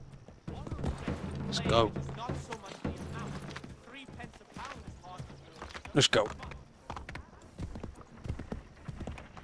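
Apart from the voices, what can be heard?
horse hooves clip-clopping in Assassin's Creed 3 video game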